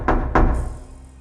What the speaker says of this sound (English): At midnight, the 3 knocks came again.